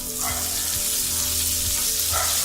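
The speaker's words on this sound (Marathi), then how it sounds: "कढीपत्ता, मिरची चांगली परतून घेऊया." Curry leaves and chillies sauté in hot oil in a pan, a loud continuous sizzle with a few stirring scrapes and a low background hum, no speech.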